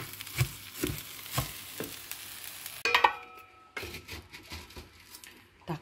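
Rice is stir-fried in a pan for chicken rice, soft sizzling with repeated scraping strokes of a spatula against the pan, faint and close, with a short rattle partway through.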